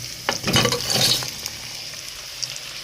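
Okra and onion sautéing with garlic in a hot pan, a steady close sizzle with a few scraping stirs near the start, fading to a softer hiss.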